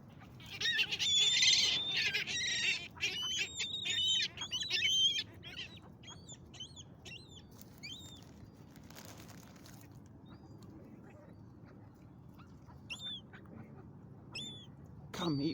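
Ducks at a feeding spot outdoors, with loud excited calls and quacking bursts clustered early on, then sparser chirping calls over low background rumble.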